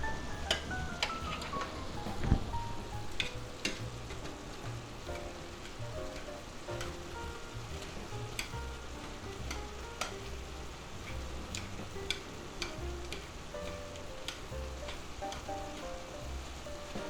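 Ground beef frying in a pan for beef lo mein stir fry, a steady soft sizzle with scattered sharp ticks and scrapes of stirring, fairly quiet and without talk.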